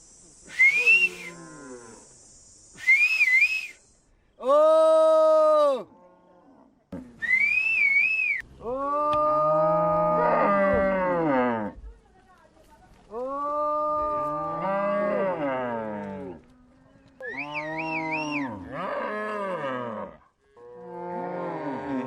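Cattle on open grassland pasture under rotational grazing give a series of long, loud moos one after another, some high and whistle-like, with short pauses between calls.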